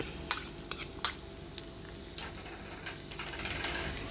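Finely chopped garlic dropped into hot coconut oil sizzles steadily, with a few sharp clinks of a spoon against the pan early on over the continuous frying hiss.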